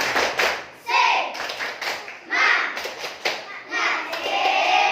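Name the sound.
rhythmic group clapping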